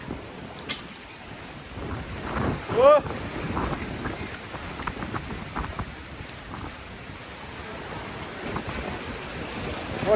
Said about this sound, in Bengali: জীবনে এরকম হাওয়া দেখি নাই